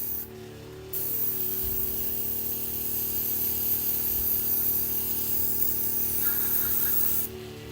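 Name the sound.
test spray of yellow spray paint for Warhammer painting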